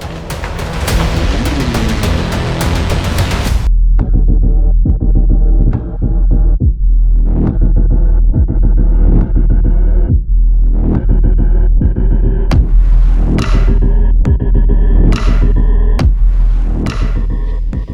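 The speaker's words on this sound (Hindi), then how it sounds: "एसी ऑन है, मिनिमम टेम्परेचर पे।" An air conditioner set to its minimum temperature gives a steady low throbbing hum that runs throughout, with repeated heavier low thumps and some brighter clattering bursts layered over it.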